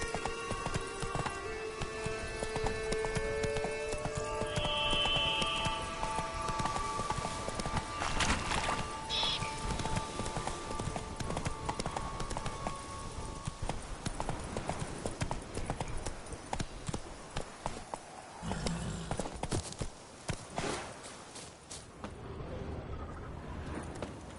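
Horse hooves clip-clopping in a video game as a rider urges the horse on, a steady rhythmic trot close by with faint game sounds behind it.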